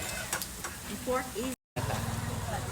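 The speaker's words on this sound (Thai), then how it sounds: "บรรยากาศร้านหมูกระทะทุกคน" Steady sizzling of pork cooking on a hot grill at a Thai pork barbecue restaurant, with voices faintly in the background and a brief dropout midway.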